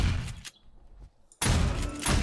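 Gunfire in 7 Days to Die aimed at a zombie behind iron bars: two loud bursts of shots bracket a short quiet gap, close and sharp, with no talking.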